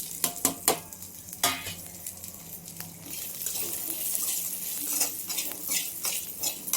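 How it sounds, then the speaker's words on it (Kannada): Garlic, cashews, ginger, coconut, onion and whole spices frying in a pan for chicken sambar: quick spoon clatters open onto a close, continuous sizzle with occasional scraping. "ಚೆನ್ನಾಗಿ ಹಸಿ ವಾಸನೆ ಹೋಗೋವರೆಗೂ ಹುರ್ಕೊಳ್ಬೇಕು"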